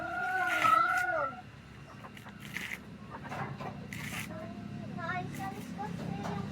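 Backyard chickens cluck and squawk repeatedly in a varied, busy rhythm, one loud burst early on, with people talking nearby underneath.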